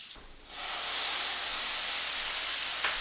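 Onions hit hot bacon grease over a medium flame and break into a loud, steady sizzle after a brief quiet moment, the bright hiss holding evenly to the end.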